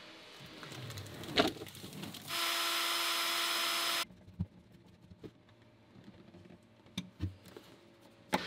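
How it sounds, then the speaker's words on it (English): A power screwdriver drives screws to fix insulation backing inside a sailboat cupboard, one loud steady whir of under two seconds amid scattered knocks and handling clatter, no speech. "We'll just put a couple of screws in to hold those and we'll be done."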